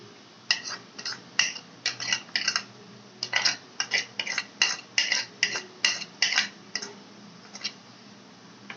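Salt, red chili, ground coriander and turmeric go into a pan of chicken and ridge gourd, with a spoon tapping repeatedly against the rim and bowls in quick, bright metallic clinks, close and alone.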